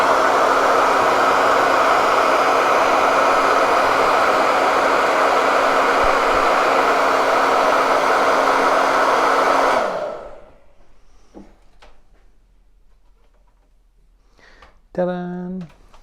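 A hair dryer blows loud and steady over a chalk-decorated Winter Wonderland village board for about ten seconds, then cuts off; a brief voice follows near the end.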